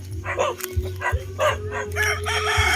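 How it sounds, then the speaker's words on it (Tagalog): A rooster crows loudly nearby while other chickens cluck around it, in a short busy burst of farmyard calls. "Ang dami ditong manok nila."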